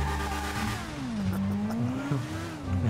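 Motorcycle engine in GTA 5, held at a high, screaming pitch that sweeps down and back up as the bike rides through a favela, loud and continuous with no talk.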